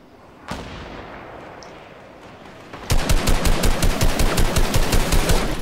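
A grenade launcher fires in the video game Fortnite: a single shot, then after a pause a loud run of rapid, evenly spaced blasts that continues to the end.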